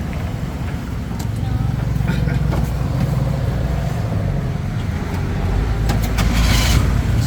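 Steady engine drone and road rumble from a tuk-tuk riding through Bangkok streets, with traffic noise around it and some talking in the background.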